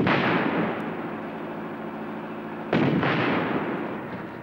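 An M109 self-propelled howitzer fires, a loud close boom that rolls and decays for seconds, followed by a second sharp blast and echoing rumble with no speech.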